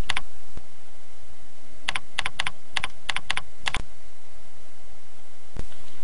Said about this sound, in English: you can type in your mailing address